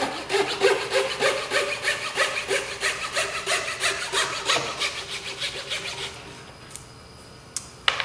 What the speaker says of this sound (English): Like I said, this coping saw, same thing down here.